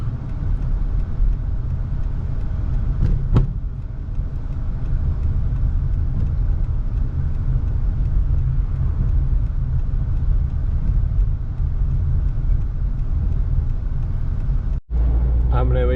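A car rolls along a road near Madina's Wadi e Jinn in Saudi Arabia, a steady low rumble of tyres and engine heard from inside throughout, with a brief thump near the end.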